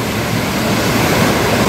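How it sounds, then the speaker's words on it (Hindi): A steady, loud roar of rushing water, constant and broadband with no pauses, from a waterfall in North Sikkim heard up close. "लेकिन झरना बढ़िया हुआ है भाई"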